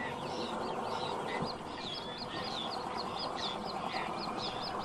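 Birds call at breeding colonies on wooded and sandy islands where sand martins, cormorants, cranes and herons nest, giving a steady chorus of high, overlapping chirps and cries over a constant, dense background hiss.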